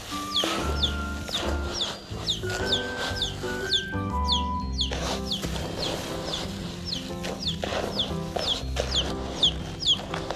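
Breeder hens on a backyard farm in the provinces cluck continuously, with repeated close calls and occasional longer squawks over a busy flock that keeps going for about ten seconds.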